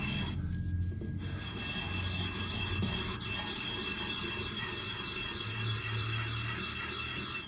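Metal piece rubbed back and forth on sandpaper laid over a flat metal surface plate during brake lathe repair, a continuous close gritty rasp with a brief pause near the start.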